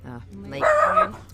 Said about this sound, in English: Pardon me, that was my dog.